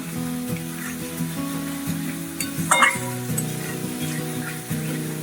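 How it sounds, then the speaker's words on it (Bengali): Spice paste with sugar being stir-fried in oil for Bengali tel koi fish curry, a steady close sizzle with scraping stirs and a brief louder clatter midway, alone without talk. "দিয়ে আবারও আমি ভালো করে কষিয়ে নিচ্ছি"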